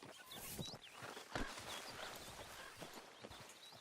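A horse walks in the Red Dead Redemption 2 video game, its hooves clip-clopping steadily at a moderate distance over faint ambient game sound, with no talk.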